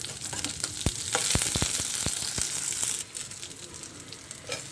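Mustard seeds, cumin, green chilies and curry leaves fry in hot oil with a loud sizzling hiss, sharp crackles and pops in quick succession, then the sizzle settles to a softer steady fry.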